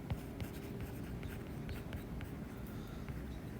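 Marker or chalk strokes on a board during a mechanics of materials lecture on circular shafts in torsion, a faint series of short scratchy writing sounds over low room noise.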